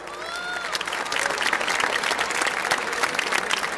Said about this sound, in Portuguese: Uma salva de palmas para o professor Laí